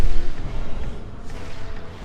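A morph ball bomb explodes in Metroid Prime, a dull low boom followed by a rumbling tail.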